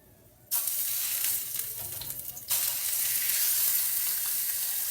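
A pork chop lowered into hot oil in a pan bursts into loud, steady sizzling that keeps crackling, with a brief dip before it surges again, and no talk.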